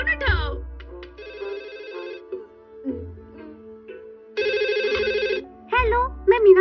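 Cartoon telephone ringing in bursts of bright electronic trills, loud and close, alternating with a voice and other cartoon sounds between the rings.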